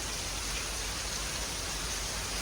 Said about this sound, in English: right now we've got a band of strong rain